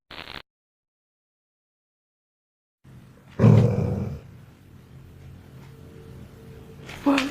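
A terrified dog in a dark hallway lets out a sudden loud, rough bark-growl after a stretch of silence, followed by a lower rumbling tail and a second sharp burst at the end.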